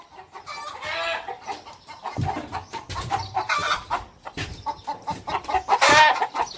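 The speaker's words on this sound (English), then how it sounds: "Chicken!" Chickens cluck and squawk around a home yard in the Philippines, with busy overlapping calls, a rooster crowing among them and a louder burst near the end.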